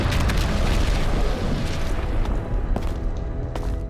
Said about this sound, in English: But then this explosion happens right here